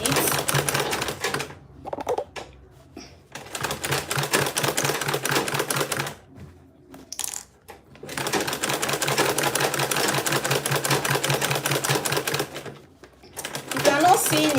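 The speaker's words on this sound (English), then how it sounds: "So I'm just going to be sewing all around it." Sewing machine stitching around a handmade bag, rapid mechanical clatter running in long bursts separated by short pauses, close and loud, with a person talking at times.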